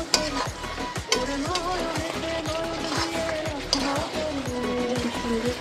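Chicken being stirred in ghee in a hot pan, a steady sizzle of frying with repeated scraping strokes of a spoon against the pan in a regular rhythm, close and fairly loud, with no talking.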